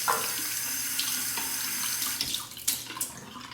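Hot water runs steadily from a bathroom tap into a sink during a wet shave as a shaving brush is soaked under it, a continuous close splashing with a few louder spatters near the end.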